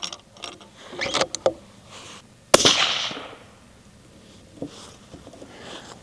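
A single sharp rifle shot cracks out from a Howa Mini chambered in 6.5 Grendel, loud and close, followed by a brief decaying echo and light handling clicks before and after.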